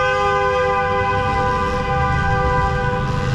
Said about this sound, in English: It is still honking.